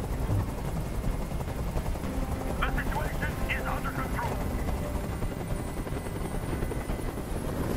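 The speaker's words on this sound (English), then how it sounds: "Tell that helicopter to get out of here." A helicopter hovers in the Detroit: Become Human video game, its loud, steady rotor drone filling the whole stretch, with a few brief sharper bursts partway through.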